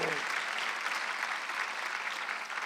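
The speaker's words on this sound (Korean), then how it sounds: "박수 한번 주세요" A church congregation at a Korean Sunday worship service breaks into applause, a dense, even wash of clapping that carries on steadily throughout.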